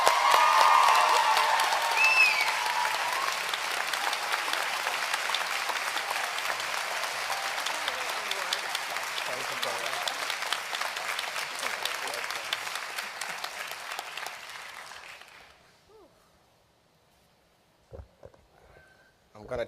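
An audience at a university public health winter commencement ceremony applauds the Golden Apple Award recipient: a dense, steady roar of clapping that holds for about fifteen seconds, then thins out and fades to near silence with a few last scattered claps.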